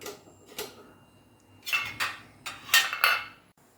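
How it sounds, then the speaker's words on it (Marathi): Several sharp metallic clinks and clatters of a pot being set into an idli cooker, in uneven bursts, close by in an otherwise quiet room. "हे आता मी इडली कुकरमध्ये लावून देणार आहे"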